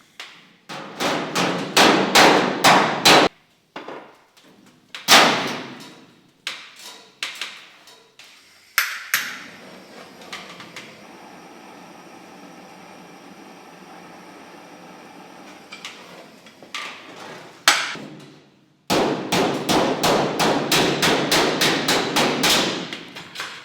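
Rapid bursts of metallic hammering with a hammer and dolly on an Alfa Romeo GTV's sheet-metal roof, loud and close, broken by pauses and a steady whirring hum in the middle.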